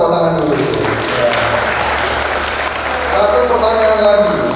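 High school students applauding during a traffic-ethics outreach session in a school hall, a loud sustained roll of clapping from a large group, with voices talking over it and the clapping swelling again toward the end.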